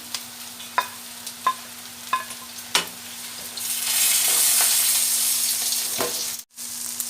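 Green peppers fry in a pan while being stirred: a run of separate scraping clicks from the utensil, then a steadier hiss of sizzling oil that rises and stays fairly loud before cutting off briefly near the end. No one speaks.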